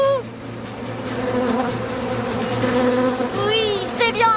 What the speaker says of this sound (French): Je vais emmener les abeilles plus loin, dans un endroit tranquille!